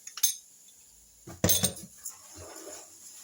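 A utensil stirs cookie batter in a bowl after salt and baking powder quenched with vinegar go in, making a few scattered clinks and scrapes against the bowl, close and fairly quiet, with short pauses between.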